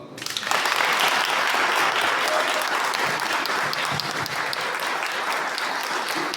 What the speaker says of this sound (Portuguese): Então nós precisamos aplaudir isso, pessoal